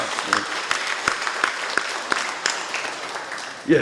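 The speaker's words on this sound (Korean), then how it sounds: "저 뒤에 두 분 크게 박수로 격려해 주시기 바랍니다" A church congregation claps for two bereaved families in a steady, rhythmic round of applause, each clap sharp and evenly spaced, moderately loud and heard with no talk over it.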